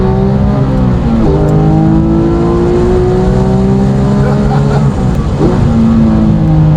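Porsche 911 GT3 RS 4.0 flat-six revving hard while driving, loud and close, its pitch climbing and dropping through repeated gear changes with a steady roar throughout.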